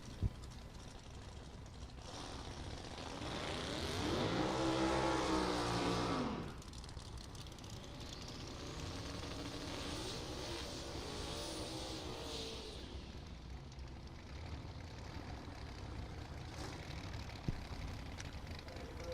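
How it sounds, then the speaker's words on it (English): A 1969 Camaro Z28 drag car with a 632 cubic inch engine at a street drag event, its loud engine rising to a hard revving peak, then dropping back to a sustained rumbling drone as it passes. "69 Camaro Z28, of course, 632 cubic inch engine."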